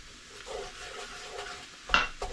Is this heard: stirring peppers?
yes